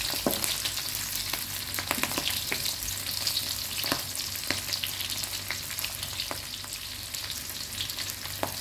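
Ingredients stir-fried in a pan until fragrant, before fish roe goes in: a steady sizzle of frying with scattered scrapes and taps of the spatula against the pan, moderately close and without talk.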